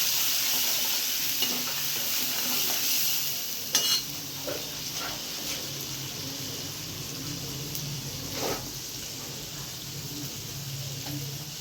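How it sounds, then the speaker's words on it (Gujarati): Spices tempering in hot oil for a Gujarati val (field bean) curry give a steady, close sizzle that runs the whole time, with a few sharp stirring clinks and spits breaking through. "મેં વઘાર કર્યો છે."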